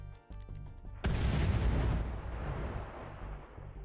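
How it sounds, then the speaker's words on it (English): Artillery in the video game Rimworld fires a heavy boom that bursts in suddenly and rolls on as a long, loud rumbling tail, after a few lighter game clicks and thuds. "finally, we have the steel artillery, or just the regular artillery"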